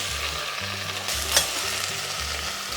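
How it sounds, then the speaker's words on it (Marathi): Fenugreek mixture sizzling and frying in a pan while being stirred, a steady close hiss with a low rhythmic scraping underneath and one brief sharper clink, heard without talk. "चांगली वाटीभर आपण मेथी घालणार आहोत आणि आता हे आपण सगळं हलवून घेणार आहोत"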